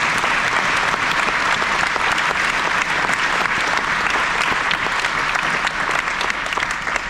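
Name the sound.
audience applause for the convoy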